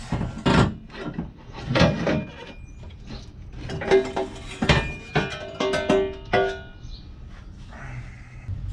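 A car's engine exhaust header being worked loose and pulled out during a turbo build, heard as a run of close wooden-sounding knocks, scrapes and rasping metal rubs in irregular bursts, with no talking.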